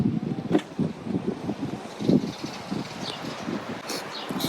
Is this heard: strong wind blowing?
yes